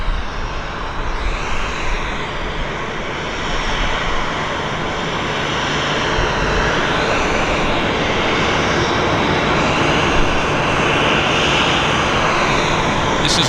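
Aircraft engines at Vancouver Airport spool up to takeoff power, a steady broad roar that swells gradually over several seconds and holds loud and close, with no talking.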